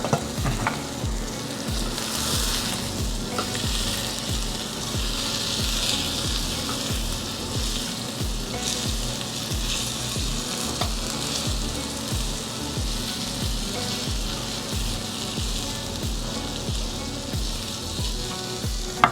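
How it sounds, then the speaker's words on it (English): Steak omelette cooking in a covered pan, giving a steady, continuous sizzle and crackle at even volume throughout, close and with no voices. "I'll put the lid on top and cook it for another 3 to 4 minutes"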